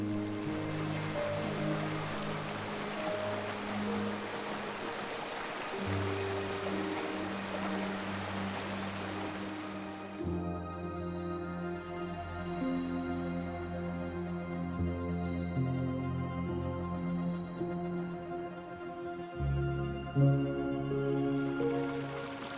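A small cascade of tiny waterfalls in a forest, a steady broadband rush of falling water that stays continuous and fairly close throughout, with no voices.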